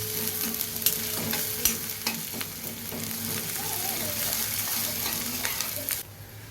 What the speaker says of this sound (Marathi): तेल चांगलंच तापलेलं आहे आणि कांदा व्यवस्थित परतून घेऊया थोडा कांदा ब्राऊन झाला पाहिजे